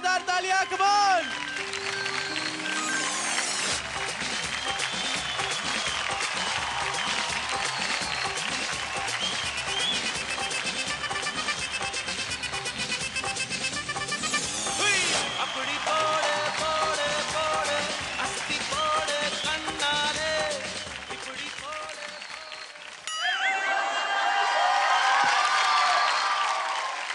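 Audience applause swells on a televised children's singing competition stage, dense and sustained beneath loud show music, rising into a fuller burst of clapping and cheering at the end.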